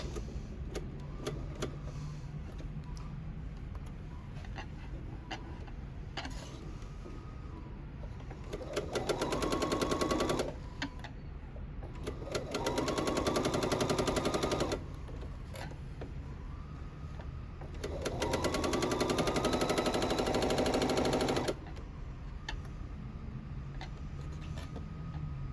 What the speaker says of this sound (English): I'm going to start sewing